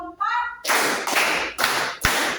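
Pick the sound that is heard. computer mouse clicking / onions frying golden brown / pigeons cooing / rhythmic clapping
rhythmic clapping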